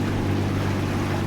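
A steady, low motor drone hums continuously with a wash of water noise, a small boat cruising at constant speed in the video game Umigari.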